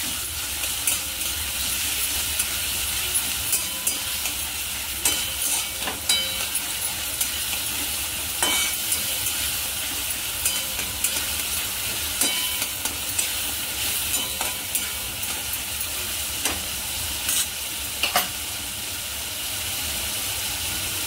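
Chopped onion and finely diced tomato fry in a pan with a steady, close sizzle that holds throughout, broken by faint scrapes and taps of stirring, with no voices.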